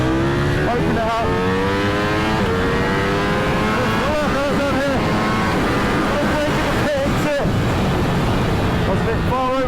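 A Ducati V4S motorcycle on slick tyres accelerates hard around a race track, its engine loud and close, rising through gears with repeated climbing whines, shifts and brief dips, under wind noise and a rider's speech.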